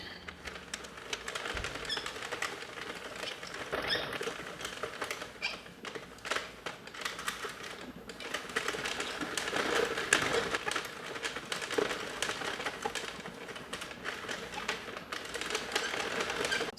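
A Sentro 48 knitting machine works through rows of a wrap shawl sweater, giving a steady, continuous mechanical clatter of small clicks and rattles at moderate loudness with no voices.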